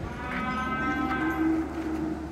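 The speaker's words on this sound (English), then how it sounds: "you don't want to get too close to these cattle, man. They get spooked." Texas Longhorn cattle at a cattle show in Llano, Texas give a sustained low moo, steady and fairly loud over a continuous background murmur of the show grounds.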